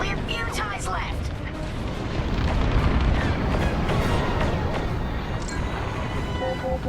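Corvette starship blowing apart in the Star Wars Squadrons space combat game, a dense sustained rumbling blast that swells around the middle and stays loud, layered with crackling debris bursts and other game effects.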